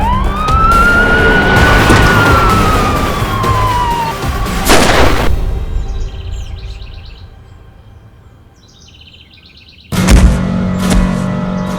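A car speeds along with its siren wailing as it rises and falls over the engine rush, then cuts out. Birds chirp faintly during a quieter stretch before the loud roar of the moving vehicle returns.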